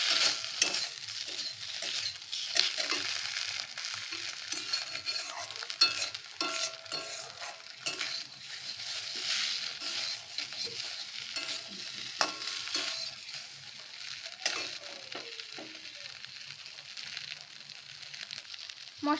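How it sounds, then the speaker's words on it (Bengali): Spice paste with salt fries in a pan, making a quiet, low hiss with soft intermittent scrapes and faint crackles, heard close up and without any voices. "মশলাটা কষানো হয়ে গেছে"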